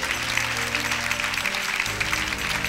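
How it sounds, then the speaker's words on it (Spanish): Church congregation applauding the King during a sermon, a steady dense wash of clapping throughout, with low organ or keyboard tones sustained underneath. "Dele un aplauso al Rey con todo su corazón."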